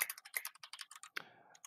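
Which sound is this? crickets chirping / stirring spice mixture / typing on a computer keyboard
typing on a computer keyboard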